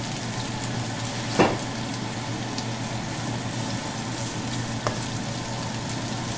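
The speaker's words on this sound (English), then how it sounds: "and fry it." Steady, soft sizzling of okra frying in hot oil, with a couple of brief pops and crackles standing out against the constant hiss.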